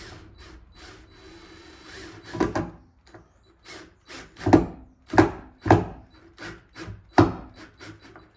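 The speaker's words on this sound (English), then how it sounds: "Right, got the drill." A hand drill drives a screw into wood during a car rebuild, sounding as a series of short, sharp mechanical bursts that start and stop in an uneven rhythm, fairly close and with no talking.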